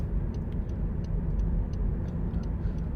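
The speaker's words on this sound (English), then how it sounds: "So the engine's going all the time, but when you need it, the motor will cut in." A 2011 Honda CR-Z 1.5 IMA Sport hybrid runs while driving, giving a steady low engine and road drone heard from inside the cabin, with faint regular ticking above it and no talk.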